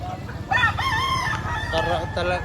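A San Pablo rooster crows in long drawn, harmonic calls, with other fowl nearby and a low rumbling crowd or market noise underneath.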